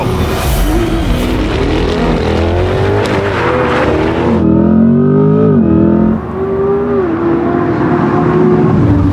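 A Corvette E-Ray, Ferrari F8 and Lamborghini Huracan Evo accelerate hard in a race, with loud, close engine roar climbing in pitch through several gear changes.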